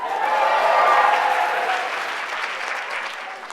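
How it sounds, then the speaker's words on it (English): Steady, sustained applause from a conference audience at a Queers & Comics keynote, a full wash of clapping that swells early and tapers slightly toward the end. "please give a round of applause for Jen Camper."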